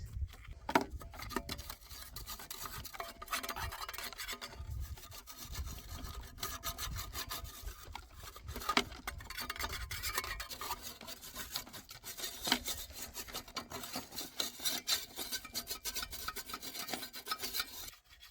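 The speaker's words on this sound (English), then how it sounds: "I scraped the inside of all the pipes as thoroughly as possible using the rebar." Rebar scraping and rasping along the inside of metal chimney pipe sections to clear out tar buildup, a continuous gritty grinding in uneven strokes that carries on steadily with no voices.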